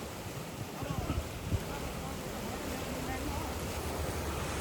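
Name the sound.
fast-flowing Teesta river current in Sikkim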